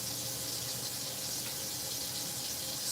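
Fresh cilantro rinsed under a running kitchen tap, giving a steady, close hiss of flowing water with no pauses and no voices.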